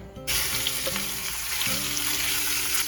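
Chunks of meat dropped into a hot pot to brown for pozole rojo, a sudden loud hiss that stays as a broad, steady sizzle close by, with a faint hum underneath.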